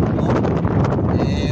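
Strong wind at sea blasts across the microphone on a fishing trip, a loud, continuous roaring buffet through the whole short stretch.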